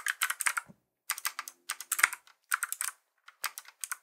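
Bursts of rapid typing on a computer keyboard, close and clear, in several short runs separated by brief pauses, with no talking.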